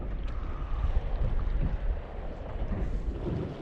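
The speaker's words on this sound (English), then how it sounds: "The wind's blowing hard this morning" Strong wind gusting across the back side of Petite Bois Island, a rough, rumbling buffet on the microphone that stays steady for a few seconds.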